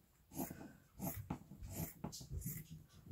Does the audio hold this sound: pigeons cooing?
no